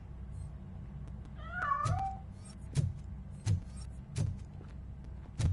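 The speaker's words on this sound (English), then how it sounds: "That cat must be hiding inside." A cat meows once in a video game, a short wavering cry amid quiet ambience, followed by several evenly spaced soft thumps.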